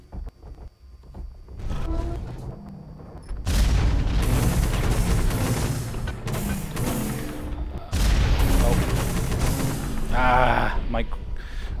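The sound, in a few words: rockets hitting a building in the video game Hawken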